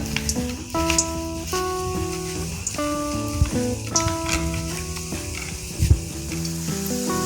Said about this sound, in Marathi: तेलामध्येच डायरेक्ट चिप्स पाडायचे बघा अशा प्रकारे चिप्स पाडून घ्यायचे